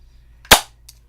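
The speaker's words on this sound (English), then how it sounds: "I will punch little labels" A paper label punch snapping once through red scrap paper: a single loud, sharp, close click in an otherwise quiet room, followed by a faint small release sound.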